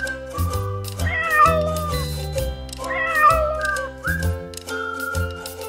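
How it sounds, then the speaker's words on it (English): A cat meows several times, drawn-out rising and falling cries that come close and clear over a soft musical backing. "C for cat."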